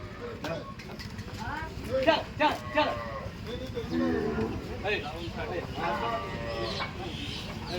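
Gir cattle moo amid a busy livestock market in Dhule, Maharashtra, their calls mixing with people talking and other animal noises nearby.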